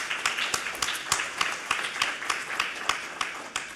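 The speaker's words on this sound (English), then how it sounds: "So big applause for them." Audience applause at a competition-law workshop, a sustained patter of many hands with crisp individual claps at a fairly steady rhythm, moderately loud and continuous.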